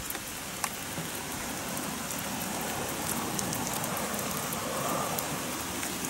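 Heavy rain falls steadily at a lake during a carp fishing session, a dense, even hiss of drops on surfaces close by, with one sharp tap early on and no talking.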